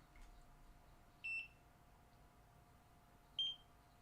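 A Nira non-ablative at-home laser, held near the eyes, gives two short high electronic beeps a couple of seconds apart over a quiet room hum.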